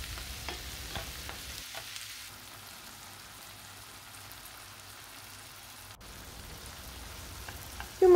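Purslane sautés in a pan for a Turkish egg dish, a soft, even sizzle heard up close with a few light stirring taps early, then a steadier, quieter hiss without any voices.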